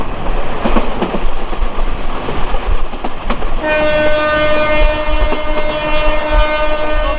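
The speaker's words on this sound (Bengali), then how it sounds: "আমাদের পরিবারিক কমিউটার ট্রেনটি ষাট একষট্টি পঁয়ষট্টি কিলোমিটার গতিতে যাচ্ছে" A local commuter train rolls at about 60 km/h, close and loud with rattling carriages and clattering wheels, then a long sustained horn sounds over the rumble in fog.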